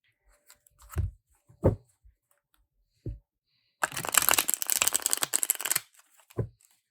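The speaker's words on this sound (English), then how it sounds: "I like the sound that this deck makes when it shuffles" Close, crisp riffle shuffle of a linen-finish tarot deck, a dense flurry of papery flicks lasting about two seconds, with a few scattered taps and handling sounds around it.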